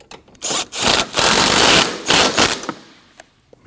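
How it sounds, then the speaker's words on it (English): Battery terminal bolt on a 2013-2019 Ford Escape being tightened, a loud burst of rapid ratcheting clicks and scraping metal that runs for about two seconds, then tapers into softer intermittent taps. "and tighten your bolt."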